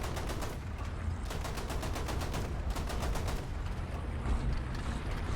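Rapid automatic gunfire from the 90/53 M41M tank destroyer in a video game, with dense rattling bursts over a constant roar of battle noise, broken by brief pauses between strings of shots.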